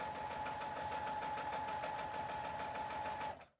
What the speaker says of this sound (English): Is the sewing machine really loud, guys?